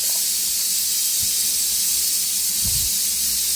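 Ground masala paste frying in a pan makes a continuous steady hiss with a couple of low bumps, close and without voices.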